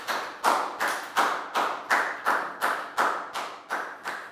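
Students clap in slow unison in a classroom English lesson, about a dozen evenly spaced crisp claps, close and clear with no talking.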